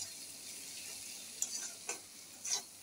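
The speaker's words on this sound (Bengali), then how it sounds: "অনেকটা ভাজা হয়ে এসেছে, বেগুনগুলিও মজে গেছে, একদম ভাজা হয়ে গেছে" Eggplant and dried fish frying together in a pan for bharta, a steady close sizzle with a few sharp spatula scrapes and stirring clicks scattered through it.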